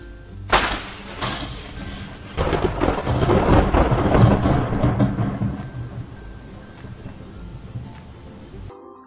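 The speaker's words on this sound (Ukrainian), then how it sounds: "Так, це був грім." A recorded thunderstorm plays back: a sharp crack of thunder opens into a long rolling rumble over steady rain, loud and booming before fading and cutting off abruptly.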